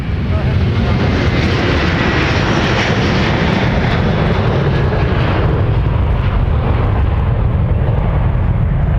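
A large jet airliner departs Minneapolis–Saint Paul airport, its engines producing a loud, sustained broadband roar that stays steady throughout at close range.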